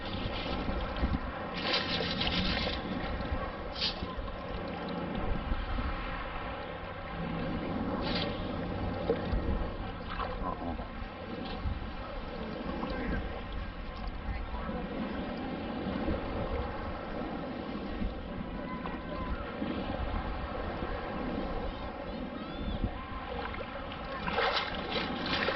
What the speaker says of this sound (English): Look how fast these boats go